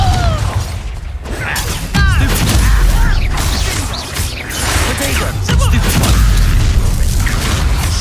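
Fire-spell blasts in the Hogwarts Legacy video game boom repeatedly, loud and close, over rumbling combat noise, crackling debris and whooshing magic effects that run continuously.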